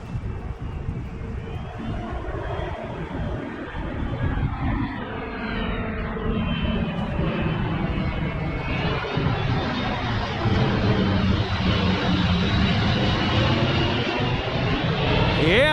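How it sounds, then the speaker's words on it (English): Airplanes passing overhead near Pittsburgh International Airport, a steady broad engine roar that swells slightly over about fifteen seconds, loud and continuous with no talk. "so we got some planes flying by"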